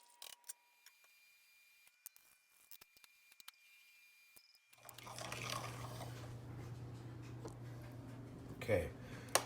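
A microwave zaps a bowl of chocolate protein oatmeal, its steady low hum starting about halfway through after some small clicks and handling noises, with a sharp beep near the end.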